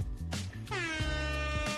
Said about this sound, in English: we gotta give you at least 3 air horns